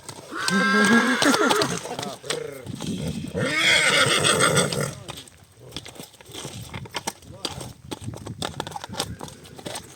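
Percheron horses whinny loudly, one long neigh near the start and another a few seconds later, followed by shuffling and thumping movement nearby.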